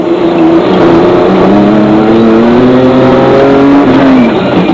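Recorded on board a Mitsubishi Pajero rally car during the Toyota 1000 rally, its engine roars loudly and rises steadily through the gears while overtaking a Nissan, a continuous close-up howl with no talking.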